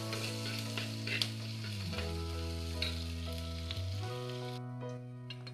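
Garlic, curry leaves and dried red chillies frying in hot oil and stirred together, a soft sizzle with light scraping under louder instrumental music.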